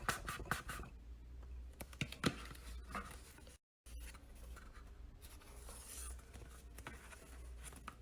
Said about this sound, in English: Then we will get this tip and we are going to fold upward.